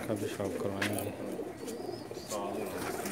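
Pigeons coo in soft, repeated low throbbing calls close by, under someone speaking Hindi/Urdu over them.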